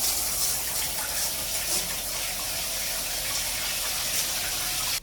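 Steady, loud rush of water pouring from a shower tap after the pressure has been increased, an even hiss that holds for about five seconds before cutting off at the end.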